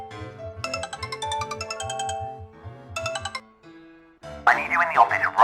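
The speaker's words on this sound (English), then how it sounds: "Your mobile phone rings." A mobile phone rings with a bright electronic ringtone melody over a bouncing low tone, in two bursts with a short pause, then a warbling burst, loud and close.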